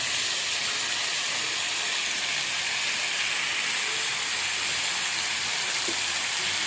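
Chicken seasoned with turmeric and salt fries in a pan, giving a steady, even sizzle and hiss that holds at a constant level throughout, with no voices over it.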